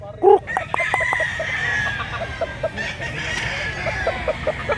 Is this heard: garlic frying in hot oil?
no